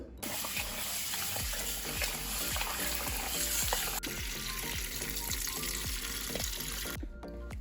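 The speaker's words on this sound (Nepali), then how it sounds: "अब म 2 कप चामललाई राम्रोसँग पखालेर 15-20 मिनेट जति भिजाउँदैछु।" Two cups of rice being rinsed in water for a goat pulao: steady running water with rhythmic sloshing and swishing strokes, close by, with no talking.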